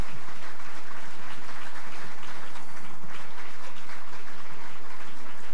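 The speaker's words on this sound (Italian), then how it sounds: "vi invito anche ad applaudire, ad accogliere con applauso, Carlo Lottieri" An audience at a conference on Veneto independence breaks into loud, continuous applause to welcome a speaker, a thick steady wash of clapping throughout.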